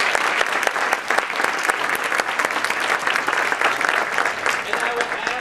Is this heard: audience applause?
yes